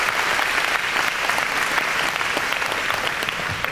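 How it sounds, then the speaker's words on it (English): Dense, steady applause from a standing audience of park and recreation staff at a university presentation, loud and continuous throughout without any voices breaking through. "please rise and let's give them a big round of applause."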